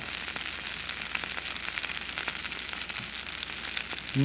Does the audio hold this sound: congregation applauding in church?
no